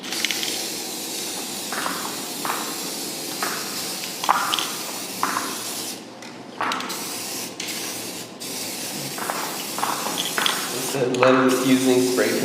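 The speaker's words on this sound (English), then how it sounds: "was using spray paint" Spray paint hisses onto a metallic marble epoxy floor at an art center, coming in repeated short bursts and longer sprays, close and fairly loud.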